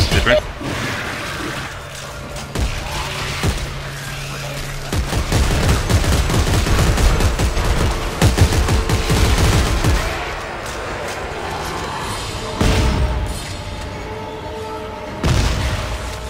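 Gunfire and shotgun blasts in Dead Space 3, heavy booming shots and bursts recurring through the stretch, loud and close, with players talking over them.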